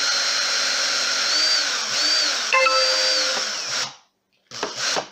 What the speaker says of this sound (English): I'm just putting my drill on the pencil mark